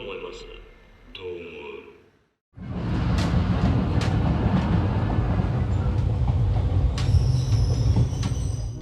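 A train rumbling along at night in a film scene, loud and continuous, with a dense clattering roar and occasional high squeals of wheels, following a brief stretch of talk and a moment of near silence.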